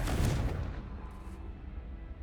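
In the Hogwarts Legacy game, a Confringo fire spell goes off as a single loud, close blast with a deep boom that fades over about two seconds.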